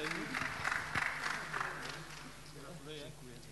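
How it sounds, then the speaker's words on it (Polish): Warm applause from an audience at the EXPODENT 2017 awards ceremony, brief clapping that fades quickly beneath someone speaking Polish over it. "Gorące brawa dla szanownej komisji"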